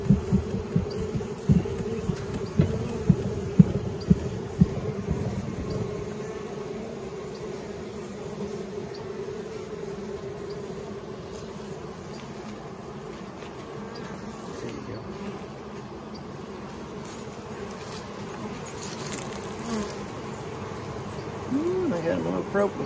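Honey bees in an opened hive during a honey harvest, a steady close buzzing drone that runs throughout, with people talking over it in the first few seconds.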